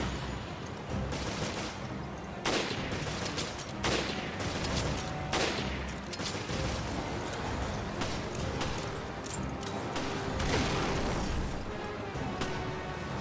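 Grenade blast and gunfire in Resident Evil Revelations, a continuous loud barrage of booms and sharp shots with a dense, roaring background and no talking.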